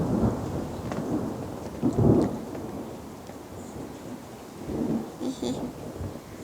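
Thunder during a thunderstorm, with low rolling rumbles peaking twice over a soft wash of rain and faint rustling nearby.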